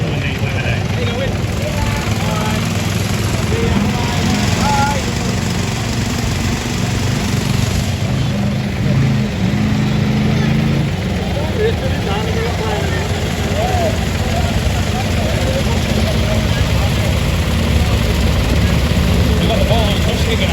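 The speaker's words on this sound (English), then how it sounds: "This particular tractor has been modified so it runs on tractor bit right now." A Ferguson tractor modified to run on tractor vaporising oil runs at a Willow Fields live vintage engine show, a loud, continuous engine rumble throughout with someone talking over it.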